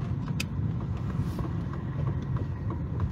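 An old Audi 100 on a test drive, its engine and road rumble steady and close from inside the cabin, with no talk.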